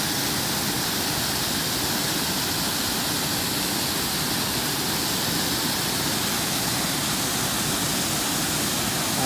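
Small waterfall spilling over a dam on a creek at Blanchard Springs near Mountain View, Arkansas, giving a steady, dense rush of falling water that is close and continuous throughout, with no voices.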